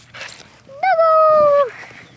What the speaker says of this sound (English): That's Siska, the little dog.